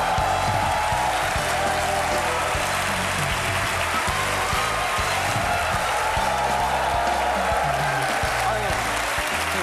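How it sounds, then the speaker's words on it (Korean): A class of students applauds steadily to welcome a visiting doctor, a continuous, even wash of clapping with faint chatter beneath it. "강재현 선생님 박수!"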